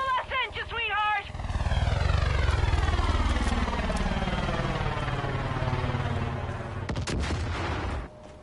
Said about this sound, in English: How you flying a helicopter?